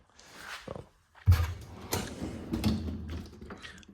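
A drawer slides out with a creaking, rattling metallic scrape, followed by a few softer clunks and shifting mechanism noises nearby.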